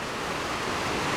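A Bilt Hard concrete mixer churns a load of about three 60-pound bags of concrete plus water, giving a loud, steady, unbroken broadband roar with no talk.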